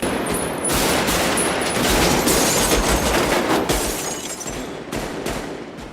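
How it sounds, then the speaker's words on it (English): Dense, continuous bursts of rapid real gunfire recorded live on a downtown Los Angeles film set crackle and echo, loud and close, with overlapping shots and no speech. "Nothing was dubbed onto the gunfire afterward."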